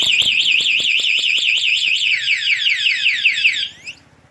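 A TEXNO Super two-way alarm fitted to a Kawasaki big bike wails loudly and close with a rapid rising-and-falling electronic siren, accompanied by clicking at first, then stops abruptly after about four seconds.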